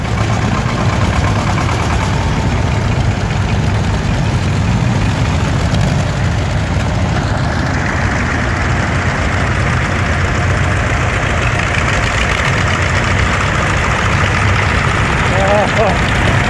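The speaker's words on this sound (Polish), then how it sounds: "Jest, traktory jadą, jadą!" Vintage tractor engines idle loudly and continuously at a vintage tractor rally, a deep rumbling drone with steady knocking throughout, close by and with no break.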